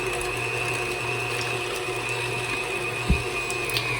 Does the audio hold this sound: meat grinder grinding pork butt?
yes